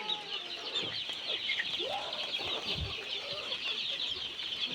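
Native and Red Island chickens with their chicks cluck softly and peep while pecking at banana, close by, over a constant high-pitched insect-like drone in the background.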